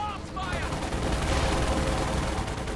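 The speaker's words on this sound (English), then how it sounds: "Oh, that was a nasty barrage there." Artillery barrage in the real-time strategy game Company of Heroes 2: a steady, dense rumble of overlapping explosions and gunfire continues throughout at moderate level, with faint commentary voices mixed underneath.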